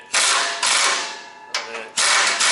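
Close, bright bursts of a socket ratchet or air ratchet whirring as exhaust bolts are run in on a truck, four short loud spurts separated by brief gaps.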